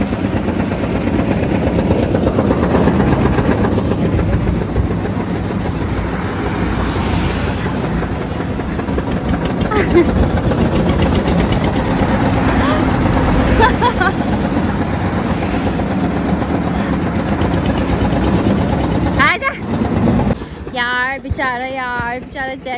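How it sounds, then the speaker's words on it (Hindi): A motorcycle on a bike trip around Rishikesh, carrying two riders and heavy luggage: a loud, steady engine and wind roar runs throughout, breaking up near the end into wavering tones. "कितना मुश्किल से देखो ऐसे बाइक चलाते हैं"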